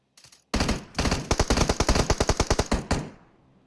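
Automatic gunfire in a competitive PUBG Mobile match: a short opening volley, then a loud, close, steady string of rapid shots that stops abruptly and echoes away.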